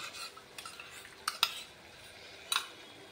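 A spoon stirs a masala of cashew paste and hung yogurt in a pan, giving a few soft scrapes and light clinks close by with no talk.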